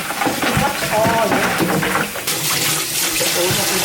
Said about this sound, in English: Clean the pot to make sure the broth is extra clear.